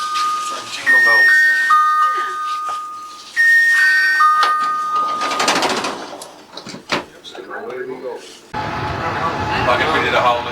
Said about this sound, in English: Jingle bells.